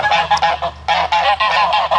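Geese honk loudly and close by in repeated overlapping bursts, a noisy gaggle kept alongside chickens in a backyard coop setup, with brief gaps between the calls and no talking.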